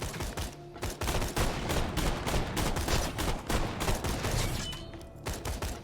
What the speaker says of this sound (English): Not massive explosions, just regular explosions.